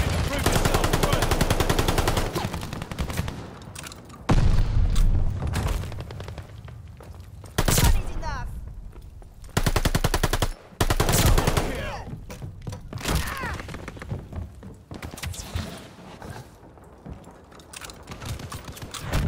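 Rapid machine-gun bursts and single shots in a hardcore search and destroy video game match, loud and near, coming in dense volleys with short gaps, while a voice talks in between.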